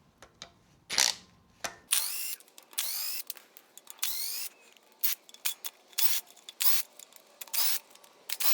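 A ratchet clicks through 13 mm oil pan bolts on an Atlas 4200 straight-six engine, in a close series of short, sharp ratcheting bursts separated by brief pauses.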